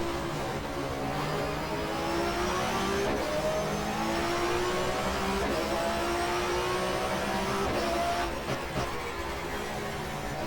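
Touring car engine in the GTR2 racing game at the Zandvoort circuit, holding a steady high whine with shifting pitch bands as it drops down through gears, loud and continuous with no talk.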